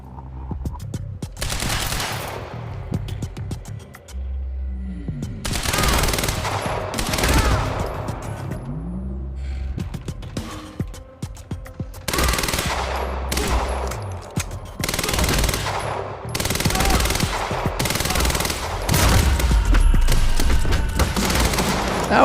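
Sustained bursts of automatic gunfire in the game Quantum Break, long rattling volleys separated by short gaps, loud and close, with occasional heavier booms.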